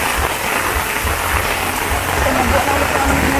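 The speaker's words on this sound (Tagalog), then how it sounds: "Lumakas na yung ulan." Heavy rain falls steadily on surfaces in the Philippines, a dense, continuous hiss that stays loud and even throughout with no break.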